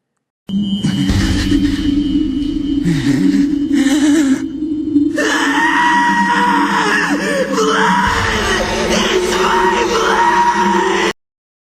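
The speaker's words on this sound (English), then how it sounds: "And as Gaara screams" An anime character screams in a long, loud, strained cry that shifts into a ragged bellow over dramatic background music, sustained for several seconds and close up.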